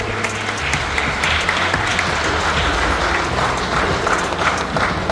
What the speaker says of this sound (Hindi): सभी से अनुरोध है जोरदार हाथ ताली के साथ सर का स्वागत करें।